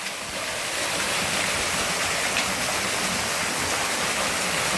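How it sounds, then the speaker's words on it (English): A waterfall pours in a steady, loud, broadband roar that fills the whole stretch without pause, heard close and alone in a natural outdoor setting. "But that is a cool waterfall right there."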